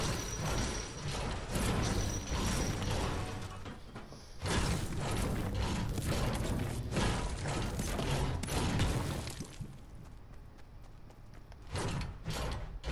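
Busy, clattering mechanical noise with repeated rhythmic knocks and scraping hits, dense and continuous with a brief drop in the middle, like pickaxe strikes in a video game.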